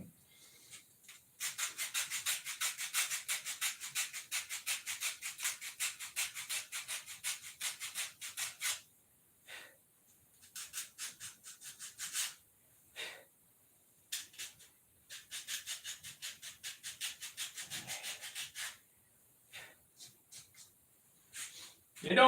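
Sanding with a sand stick: quick, close scratchy rubbing strokes in a steady rhythm, strongest at first, then breaking into shorter bursts separated by pauses, with brief talk between them.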